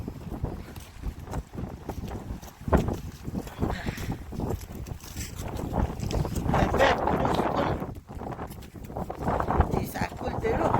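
A violent 70 to 90 km/h wind roars and gusts unevenly, with thumping buffets and rattling knocks mixed in, while a voice speaks intermittently beneath the noise.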